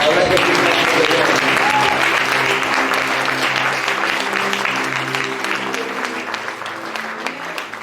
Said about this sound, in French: J'aimerais qu'on acclame pour le Seigneur. I like to give thanks to the Lord.